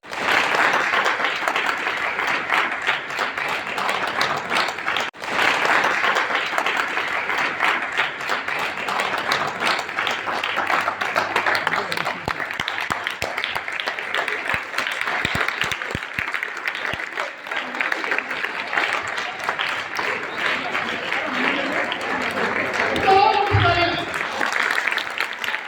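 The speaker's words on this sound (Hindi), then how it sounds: "इनको एक बार जोरदार तालियां बजा के हम लोग सम्मानित करेंगे।" A college audience gives a long burst of steady, dense applause honoring a top pharmacy student, the clapping sustained throughout with a few louder thumps and a brief voice near the end.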